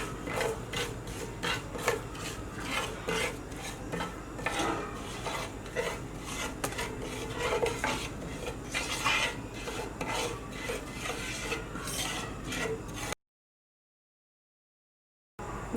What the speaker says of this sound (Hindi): अब हम इसमें बाकी के मसाले डाल देंगे और इन सबको अच्छे से मिक्स कर लें